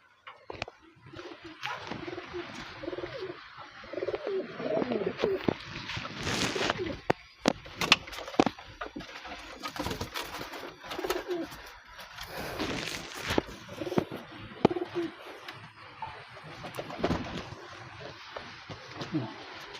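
Soft coos of Murshidabadi Giribaz pigeons rise and fall in bursts, mixed with rustling and faint movement close by.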